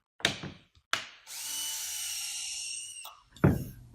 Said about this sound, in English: So we'll pilot drill